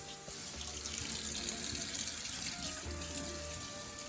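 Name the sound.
rinsing an Aeropress part under a water tap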